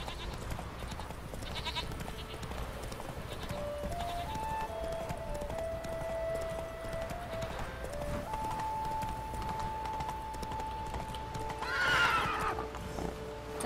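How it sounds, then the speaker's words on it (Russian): Roach, the horse in The Witcher 3, whinnies and neighs loudly over steady clip-clopping hooves, with a sharp, strained cry standing out near the end amid continuous game sounds. "Сумасшедшая лошадь."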